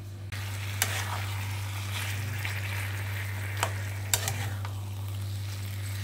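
Food being sautéed in a pan, with a steady sizzle under a constant low hum, and a few sharp clinks of a utensil against the pan.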